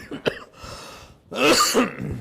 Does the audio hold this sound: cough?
yes